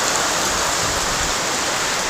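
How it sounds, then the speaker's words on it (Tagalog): Steady rain falling, a dense continuous hiss of drops on surfaces, even and close throughout with no talk. "Siguro hanggang Lunes na tong ulan na to."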